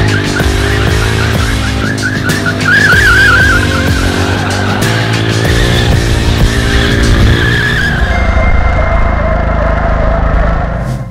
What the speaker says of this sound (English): let's warm up the tires with some rolling burnouts